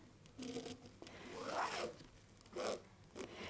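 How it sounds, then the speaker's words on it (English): A friction pen is drawn diagonally corner to corner across quilting fabric, giving faint, close scratchy rubbing strokes in a few short bursts. "we are going to draw a line diagonally corner to corner. I got my little friction pen here"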